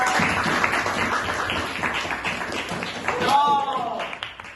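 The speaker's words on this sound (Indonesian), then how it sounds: "kita beri tepuk tangan dulu untuk Wilda" Classmates clap for a student after her persuasive speech in a classroom lesson, a short, loose patter of hands mixed with voices talking over it, then thinning out near the end.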